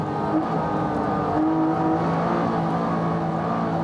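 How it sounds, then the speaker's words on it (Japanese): A Honda NSX and a Mitsubishi Lancer Evolution race at the SUGO circuit, their engines droning and whirring steadily under load as they climb, a continuous close mechanical roar without talk. "NSX とランエボの一騎打ち"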